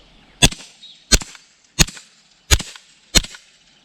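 Five sharp, evenly spaced suppressed .22 rimfire shots through a Yankee Hill Machine Phantom 22 suppressor with high velocity ammunition, each a crisp close crack with a short tail and no talk.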